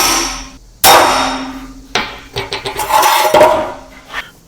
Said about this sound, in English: We'll just go ahead and center punch these and throw them in a vise